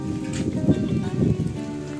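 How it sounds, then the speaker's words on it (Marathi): Heavy rain falls steadily at a hilltop fort temple near Nashik, a broad hiss of drops under a faint low hum through the short stretch. "जोराचा पाऊस चालू झालाय आता"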